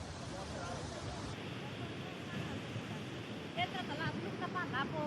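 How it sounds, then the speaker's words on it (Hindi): Fast monsoon floodwater carrying debris rushes downhill in Kullu, Himachal, cutting away roads. It makes a continuous loud broadband roar, while a voice speaks briefly over it. "तेज रफ्तार के साथ बहता हुआ पानी रास्तों को भी अपने साथ, रास्तों का भी कटान हो रहा है"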